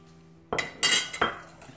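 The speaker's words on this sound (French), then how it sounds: "Donc je mélange tout, comme ça le sucre va fondre un petit peu." Cream and sugar are stirred together in a pot for an almond cake, with a few distinct metallic clinks and scrapes of a utensil against the pot, close and isolated.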